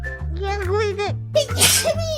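A hololive VTuber's sneeze bursts out about two-thirds of the way through, a sharp noisy blast between voiced sounds that sound like talking or sing-song vocalizing on either side.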